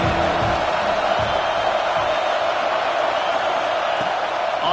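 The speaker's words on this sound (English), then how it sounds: "how nice is it to have the home crowd going absolutely bananas?" A home football crowd at a Georgia college game roars steadily throughout, a dense continuous wash of cheering with no break.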